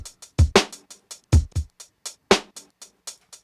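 A drum beat plays through Ableton's Beats warp mode set to stop, each hit snapping off short like a gate: clipped kicks and snares with crisp ticking hats in a choppy, staccato rhythm, with no voices.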